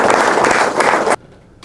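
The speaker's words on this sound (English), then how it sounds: "I'll have a nice round of applause for Jerry Lanning." An audience at a men's ministry gathering claps loudly for about a second, then the applause cuts off abruptly into near quiet.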